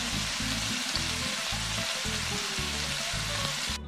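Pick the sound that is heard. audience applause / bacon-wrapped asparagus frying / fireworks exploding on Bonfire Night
bacon-wrapped asparagus frying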